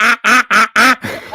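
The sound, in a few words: sound effect of cackling geese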